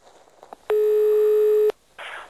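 A telephone line rings while a contact number is being called: one steady, loud ringback tone holds for about a second, with faint background noise before and after.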